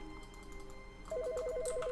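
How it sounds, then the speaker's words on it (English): Telephone rings inside the video game The Stanley Parable: a steady electronic two-tone trill starts about halfway through and repeats rapidly to the end, fairly faint over a quiet room tone. "Phone is ringing."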